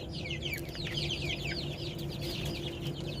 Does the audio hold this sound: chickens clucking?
yes